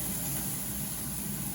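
A stove grill's exhaust fan runs steadily while chicken thighs cook, giving a loud, even whoosh of broadband noise with a low hum, unbroken and without talk.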